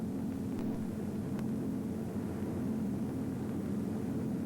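A fixed-wing airplane's engine drone holds steady and even throughout; the landing gear dropping cannot be made out in it.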